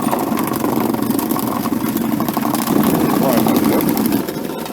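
A FROST vibratory tumbler loaded with nuts and bolts and a wheel nut runs with a steady, dense rattling hum, loud and continuous throughout.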